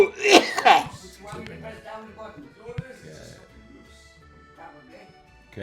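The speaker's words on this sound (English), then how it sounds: "cough again" An elderly man coughs and clears his throat loudly a couple of times near the microphone at the start, followed by quieter murmuring and faint talk.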